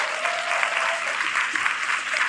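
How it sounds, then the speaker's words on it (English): A studio audience at a talk show applauds in a dense, steady burst of clapping that continues throughout. "I think she deserves the loudest applause."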